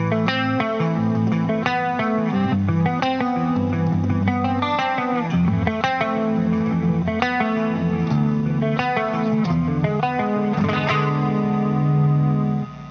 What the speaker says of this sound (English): The chorus ensemble CE-5 is sounding quite a bit less extreme